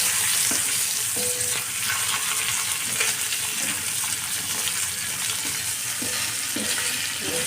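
Fish frying in a pan in an Andhra-style kitchen sizzles loudly and steadily the whole time. Occasional faint clicks and stirring sounds rise over the hiss.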